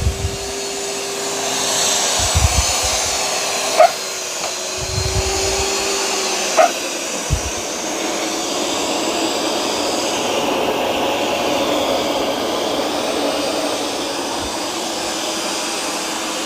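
A Eufy robot vacuum runs steadily over carpet, a constant broadband motor whir filling the whole stretch, with a few low bumps and brief clicks as it moves, near and moderately loud with no talking.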